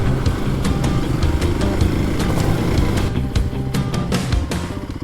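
A Kawasaki KLX300 dirt bike engine runs loud and steady during a ride, with a constant mid-pitched drone and a repeating ticking pulse throughout and no speech.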